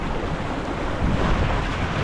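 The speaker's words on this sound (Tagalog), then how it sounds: "talagang malakas ang alon ngayon guys, dahil sa malakas yung hangin" Strong wind-driven waves surging onto the shore at Woodbine Beach in Toronto, a dense continuous roar of surf and buffeting wind noise on the microphone, swelling slightly midway, with no voices.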